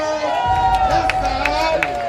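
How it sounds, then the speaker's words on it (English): A crowd at a softball all-star game cheers for the winners, a steady wash of noise with scattered claps and shouts, and a voice calls out over the top. "Y'all give him a round of applause."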